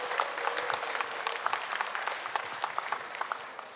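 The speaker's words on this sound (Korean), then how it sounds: "우리 심지영 교수님 큰 박수 다시 한번 부탁드릴게요" An audience claps at a public radio broadcast staged on a special stage set up in a hospital, a fairly faint, even round of many hands with a few sharper individual claps standing out.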